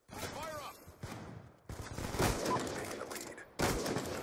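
Sniper rifle fire in the video game Black Ops 2: loud, sharp gunshots in several separate bursts, each followed by a ringing, reverberant tail that fades before the next shot.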